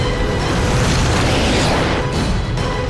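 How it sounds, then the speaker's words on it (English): A giant explosion from the film Superman Returns roars as a dense, sustained rumble with a deep low end, loud and continuous for the whole stretch without a clear single blast. "It's gonna create a giant explosion."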